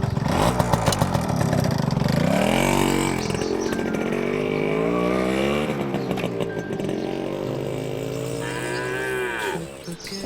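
A Honda motorcycle engine revs loudly up close, its pitch swooping up and down in repeated surges before the throttle settles and the bike pulls away.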